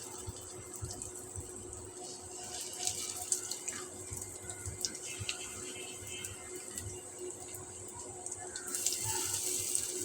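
Tap water runs steadily from a faucet into a sink while hands are washed, a continuous splashing wash close by that grows louder near the end.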